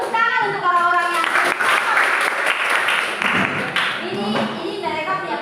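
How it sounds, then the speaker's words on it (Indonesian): A group claps and applauds for several seconds, dense and close, during a classroom teaching session, with children's voices calling out over the clapping. "Tepuk tangan"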